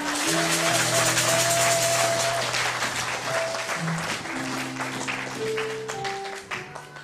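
A church congregation applauds in a dense, steady wash of clapping that lasts throughout and slowly eases near the end, with sustained musical tones ringing underneath.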